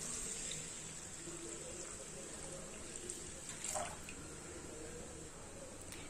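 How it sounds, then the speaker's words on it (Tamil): Water pours into a pressure cooker holding rice and dal for sakkarai pongal, a faint steady trickle close by with a brief splashy swell partway through. "1 கப் அரிசி பருப்புக்கு இதே கப்லயே 3 கப் அளவுக்கு தண்ணி சேர்த்துக்கலாம்."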